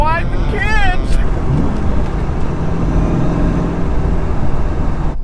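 A 2003 Chevrolet Corvette Z06 C5 cruising on winding Ozark roads, its engine a loud, continuous low rumble, with a brief voice at the start.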